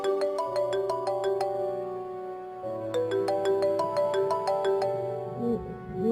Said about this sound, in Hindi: मेरा ख्याल है मीटिंग वालों का ही फोन आ रहा है।